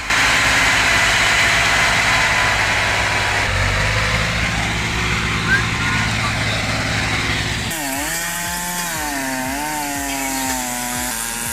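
A V3S truck stuck in mud runs its engine hard, a loud continuous roar that shifts into a rising and falling revving drone partway through.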